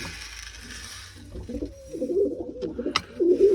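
Soft, low pigeon coos sound close by, a few rolling calls after a quiet start, with a sharp tap or two of scattered grain.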